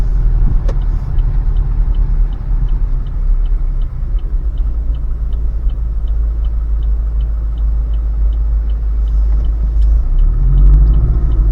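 Car driving down Arthur Avenue in the Bronx, a steady loud low rumble of engine and road noise from inside the vehicle, with faint ticking and no talk.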